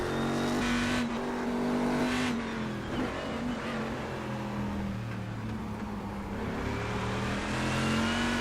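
Race car engines in iRacing traffic at Motegi, a loud steady drone with shifting revs and gear changes, cars running close together without any voices.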